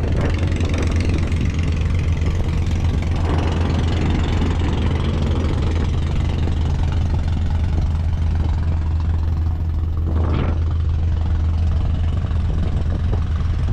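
A yacht's engine chugs continuously with a deep, steady throb, loud and close, with a brief swell of noise partway through, during a sea trial.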